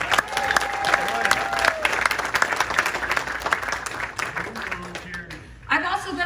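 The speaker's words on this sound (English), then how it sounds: "Yourself a round of applause." Crowd applause and cheering at a primary-win acceptance speech, a busy wash of claps with voices and shouts mixed in, thinning and fading toward the end before a brief burst returns.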